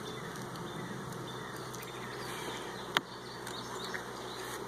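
Honey bees hum around an opened hive during a nectar flow, a continuous soft drone close by with one sharp tap partway through.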